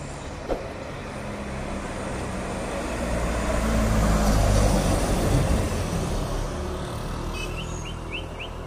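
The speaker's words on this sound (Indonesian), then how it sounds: "dari kejauhan kita lihat satu bus Sempatistar yang dari arah Medan" A Sempatistar bus approaching from the Medan direction on a roadside, its engine and road rumble swelling to a peak midway and easing off, with birds chirping faintly in the background.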